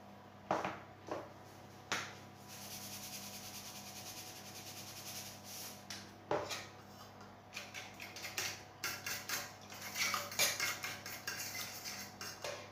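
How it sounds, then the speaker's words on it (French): Cherry tomato clafoutis batter being mixed in a bowl, with a utensil clinking and scraping against the sides in irregular taps that grow busier toward the end, close and moderately quiet. "je mélange tout ça"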